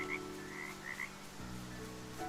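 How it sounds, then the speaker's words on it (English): A frog croaks repeatedly in short chirping bursts in Story of Seasons: Grand Bazaar, set against a quiet steady musical backdrop. "Give me this frog."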